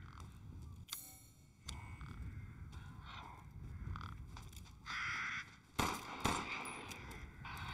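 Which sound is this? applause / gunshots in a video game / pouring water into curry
gunshots in a video game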